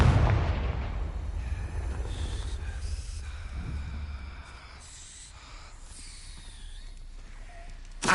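A Confringo blasting spell going off in a Hogwarts video game: one loud booming burst right at the start, then a long rumbling tail that fades slowly over several seconds beneath faint game ambience.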